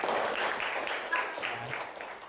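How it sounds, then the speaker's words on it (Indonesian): A classroom of students claps together on their teacher's cue, a brief burst of overlapping hand claps with a voice partly audible underneath. "Tepuk tangan semuanya"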